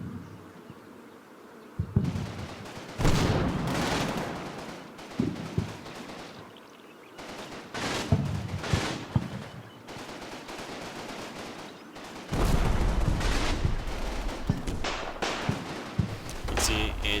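Colt 1911 pistol fire in Combat Mission, bursts of rapid gunshots rattling in loud clusters amid buzzing battlefield noise, with someone talking over parts of it.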